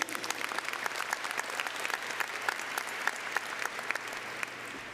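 Steady applause from a large audience at a high school commencement ceremony for the Superintendent's Cabinet, with dense, even clapping at moderate distance and no talk over it.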